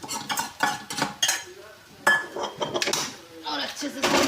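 Fried masala being stirred into dal in a pot, with a run of uneven metal clinks and scrapes as a spoon works around the vessel, close and moderately loud.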